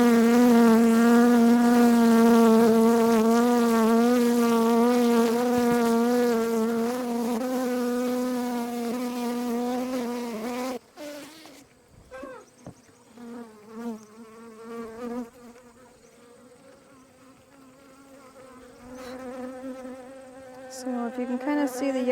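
Honey bees swarm a hive frame of uncapped honey and bee bread, a loud close droning buzz that holds steady, then breaks into a fainter, uneven hum with passing bees flying near.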